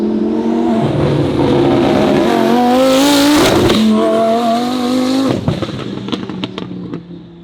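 A twin-turbo Lamborghini roars past at full throttle, the engine note sweeping in pitch as it passes close by, then a string of sharp pops and crackles from the exhaust as it moves away.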